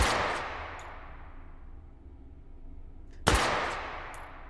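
Two loud, sharp Five-seveN pistol shots in the VR shooter H3VR, each a close crack with a long decaying tail, spaced about three seconds apart.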